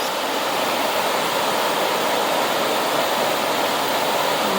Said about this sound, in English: Found the front side of the waterfall, and man, that is gorgeous.